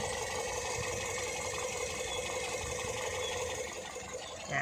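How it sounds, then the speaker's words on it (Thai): A 2012 Toyota Vios 1.5E with a 1.5L VVT-i engine idles smoothly and steadily at close range, a low even hum with a faint rhythmic ticking and no talking. "เดี๋ยวเรามาลองฟังเสียงเครื่องยนต์กันสักหน่อยนะครับ"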